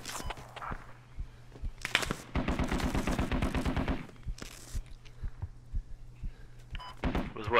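Rapid small arms fire in the military shooter game Squad, a fast rattling string of shots lasting about two seconds, followed by scattered single thuds and footsteps-like knocks at moderate distance.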